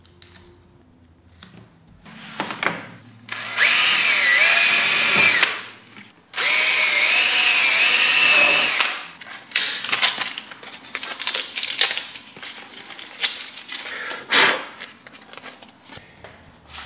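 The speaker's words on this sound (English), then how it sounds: "Now I forgot that I have to drill all the holes." Power drill boring holes while building a windmill-powered music box, two loud sustained bursts of whirring a few seconds each, with softer handling clatter and shuffling around them.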